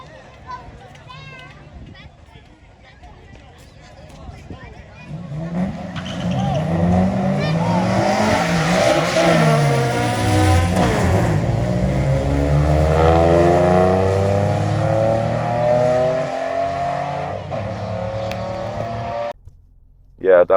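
A Nissan Maxima's engine revs hard and roars through a launch at a drag strip, rising and falling in pitch as it accelerates, loud and close, then cuts off abruptly.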